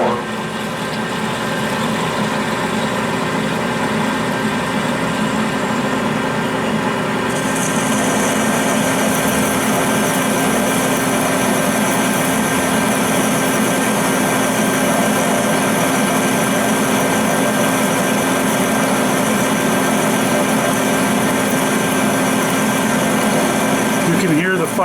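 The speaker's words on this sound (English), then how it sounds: "5 horsepower motor of my lathe struggle a little bit as it's pushing as hard as it is" Metal lathe with a 5 horsepower motor parting 4140 steel with an Accusize parting tool under lube, a continuous loud strained machining drone with a high whine joining partway through, under occasional speech.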